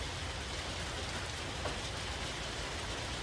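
Steady rain pours down at a woodyard, a dense, even hiss of drops hitting surfaces with no pauses, moderately loud and close, no voices.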